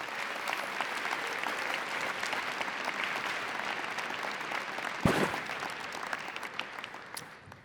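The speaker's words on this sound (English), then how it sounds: "why don't we give a big round of applause for the Clio and VLEX teams that have built Clio Work" An audience at a legal technology conference keynote gives a sustained round of dense, even applause that fills the room at close range and thins out toward the end, with one louder burst midway.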